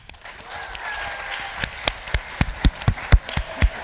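A studio audience claps in scattered, loose bursts that build into sharper, more distinct hand claps, fairly close and unaccompanied by talk.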